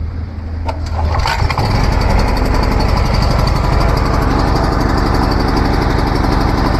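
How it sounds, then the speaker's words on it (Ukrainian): A portable generator's small engine sputters, then catches and runs at a steady, loud, rattling idle close by, chugging evenly. "Включили його і все, запускаємо сам мотор."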